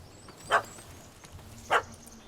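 Two short dog barks from a puppy in The Witcher 3, spaced about a second apart, moderately close over a quiet ambient background.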